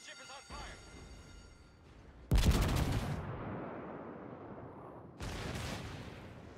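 Warspite's secondary guns fire in World of Warships as two sharp, loud booming bursts a few seconds apart, each trailing into a rumbling decay, over faint background game noise.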